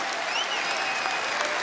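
Steady applause from an arena crowd at a women's college basketball game, Indiana against Kentucky, as a player heads to the bench; a dense, continuous wash of clapping with some whistles and cheers over it.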